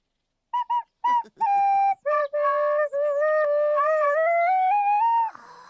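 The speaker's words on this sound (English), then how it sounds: "Then Andy, Pandy and Teddy arrived to listen to Bilbo's whistling." Whistle notes play as a simple tune, starting with a few short separate toots and moving into longer sustained tones that step upward in pitch. Clear and close, with nothing else heard.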